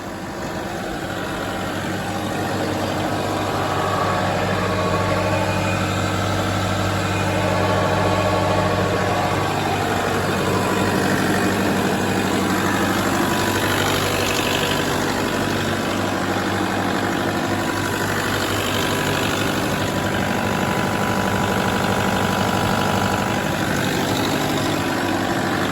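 A Toyota Land Cruiser LC120 with about 457,000 km, driving at 40 km/h with a loud differential whine, heard as a steady engine and drivetrain drone with a sustained tonal hum throughout and no talking.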